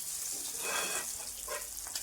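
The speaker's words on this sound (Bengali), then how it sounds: "সব মাছ ভেজে নিই।" Tengra fish fry in oil in a pan, giving a soft continuous sizzle with faint crackling swells, quiet and close, with no voices.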